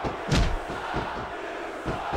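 Arena crowd in a wrestling video game roars in short swells, a loud burst early on and another near the end, over a constant rumble of spectators.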